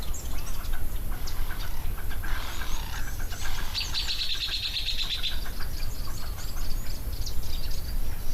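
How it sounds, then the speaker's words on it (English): High, thin whistling calls from several white-faced whistling ducks at a waterhole repeat in short bursts over a steady wash of outdoor background noise. "We have some white-faced whistling ducks, 3 white-faced whistling ducks at the water's edge."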